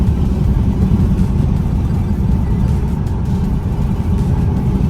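A Subaru turbo car engine accelerates hard with steady, loud low-end drone and road noise heard from inside the cabin, no voices.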